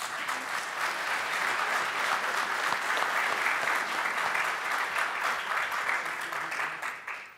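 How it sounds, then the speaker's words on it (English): Sustained audience applause for a team at a communications seminar, steady and even throughout, with dense clapping from a sizable crowd tapering slightly at the end. "Please give them a round of applause."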